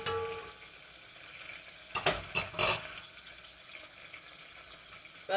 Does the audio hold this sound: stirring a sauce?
yes